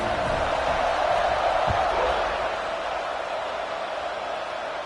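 A football stadium crowd before kickoff holds a broad, steady roar of cheering, a constant wash of many distant voices with one brief low thump partway through.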